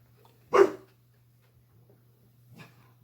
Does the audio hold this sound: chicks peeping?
no